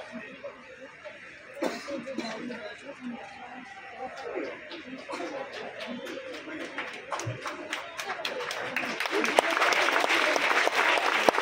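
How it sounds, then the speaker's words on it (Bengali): An audience claps to welcome guests at a ministers' event, the applause starting as scattered claps and swelling to a loud, dense ovation by the end, with murmuring voices and a few coughs underneath. "করতালি দিয়ে স্বাগত জানাই।"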